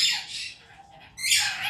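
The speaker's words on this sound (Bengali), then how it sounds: "আর এটা আছে স্কারলেট ম্যাকাও। এটা খুব একটা এক্সপেন্সিভ পাখি আছে।" A scarlet macaw and conures squawk at an exotic bird exhibition at a fair: a harsh, loud screech, a brief lull, then another shrill burst close by.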